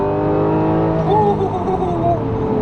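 Supercharged Audi R8 V10 sports car engine downshifting, a loud throaty drone with the revs blipping up and dropping between gears, heard from inside the car.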